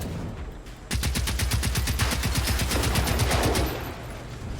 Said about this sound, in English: Use this, the AG4, which is by far the most OP weapon I have ever seen on this game